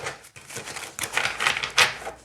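A thick oracle card deck with essential-oil themes is shuffled by hand, giving a run of crisp, rapid card riffles and flutters in uneven bursts, close and fairly loud, with no talk.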